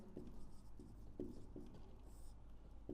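Pen on paper as an equation is written by hand during a class 10 maths lesson: faint, soft scratchy strokes with a few light taps, close but quiet over a steady low background hum, no talk.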